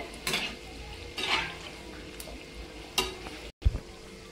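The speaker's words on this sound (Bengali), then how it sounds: "উল্টে পাল্টে ভালো করে ভেজে নিতে হবে" Soft, steady sizzle of palm fritters frying in oil, punctuated by a few scrapes and stirs of a utensil in the pan.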